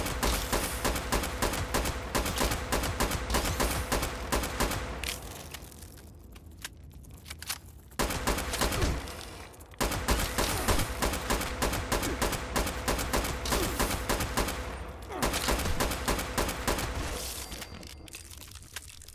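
Rapid automatic gunfire in the video game Fallout 76, loud sustained bursts of closely spaced shots that pause briefly and then resume, with no voices over the shooting.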